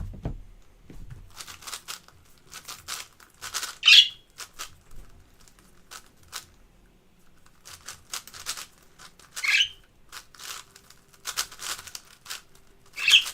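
A pet bird indoors gives three sharp, piercing squawks spaced several seconds apart, with soft rustling, clicking and fluttering sounds filling the gaps at close range.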